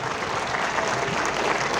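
A crowd claps in steady, dense applause to welcome guests at a gathering near Ram Nagar Fort, loud and continuous with no gaps.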